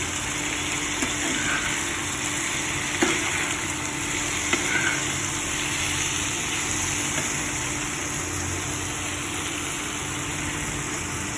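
Steady frying in a pan, a continuous broadband hiss with small crackles, alone and fairly even throughout, likely aromatics in oil before tomato, ginger and garlic paste is added.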